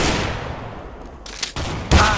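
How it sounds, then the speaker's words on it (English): Gunfire in Counter-Strike: Global Offensive, shots punching through a wall during an Arms Race match, arriving as a few sharp, loud bursts after a quieter stretch of game ambience. "he's shooting through the wall"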